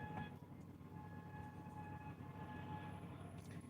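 A train sits at a road crossing in Gary, Indiana, its low rumble steady throughout with faint ringing crossing-signal tones held underneath, heard from some distance.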